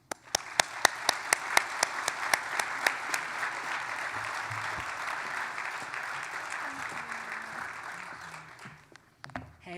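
Audience applause at a Martin Luther King Jr. ceremony, welcoming a guest speaker to the stage: a steady room-filling clap from a large crowd, a few sharp close claps standing out early, sustained for about nine seconds before tapering off abruptly.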